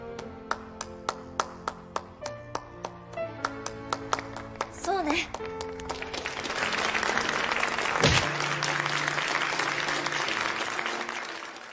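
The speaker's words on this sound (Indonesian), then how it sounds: "semua murid yang mendengar hal itu pun langsung tepuk tangan" Students in a film, at a school merged with a girls' school, begin with a few slow, distinct claps that quickly swell into full, dense applause, while a voice talks over it.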